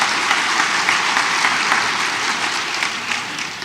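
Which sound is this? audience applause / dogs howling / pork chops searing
audience applause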